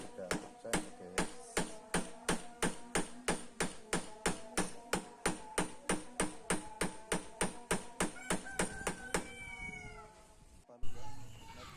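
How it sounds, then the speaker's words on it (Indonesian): Hammer tapping a Yamaha Vixion/R15 motorcycle clutch housing back into place, a steady run of about thirty sharp metallic knocks at an even rhythm, close and loud, stopping near the end. "Seperti ini saja kita ketok-ketok sampai dia terpres kembali sampai kencang."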